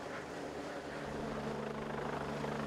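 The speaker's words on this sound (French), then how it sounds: "Les secours font appel à l'hélicoptère Dragon 75, qui vient déposer la victime directement sur la voie publique grâce à un hélitreuillage." The Paris fire brigade helicopter Dragon 75 hovers during a winch rescue over a public street, its rotor and turbine making a steady, loud, even drone throughout with no voices.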